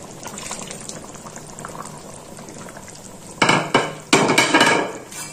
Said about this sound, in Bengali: ঢেঁড়স আর বেগুনও নরম হয়ে গেছে, এবার আমি এর মধ্যে দিয়ে দেবো তেঁতুল জলটা।